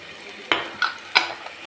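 Ground masala and turmeric are stirred in a frying pan over a soft background sizzle, with three quick scraping strokes of a spoon against the pan.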